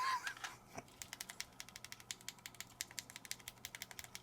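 Buttons on an Xbox One controller being built for left-handed use click rapidly in a quick, uneven series of sharp, faint clicks close to the listener, after a brief squeak at the start.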